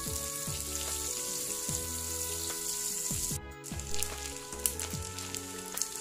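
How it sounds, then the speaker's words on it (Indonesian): Small anchovies (teri) frying in hot oil, a steady close sizzle with crackling pops and brief metallic stirring clinks that run continuously. "Kemudian lanjut goreng terinya ya."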